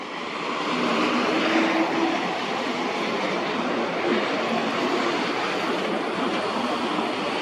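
A Boeing 747 airliner passing overhead: a loud, steady, broadband jet roar that fills the whole stretch without fading, with no voices.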